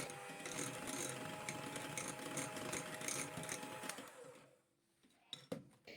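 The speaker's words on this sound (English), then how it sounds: "Use an electric hand mixer on medium speed to beat this until it is nice and incorporated." An electric hand mixer on medium speed beats a mango filling for a no-bake tiramisu, a steady whirring motor that runs for about four seconds, then cuts off, followed by a few faint clicks.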